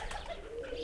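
Pigeons cooing close by, a short soft throaty coo over a low background hum.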